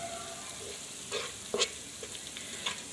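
Beef with jackfruit seeds fries in a non-stick rice cooker pot with a soft, steady sizzle, broken by a few light scrapes and taps as it is stirred, close and fairly quiet with no talk.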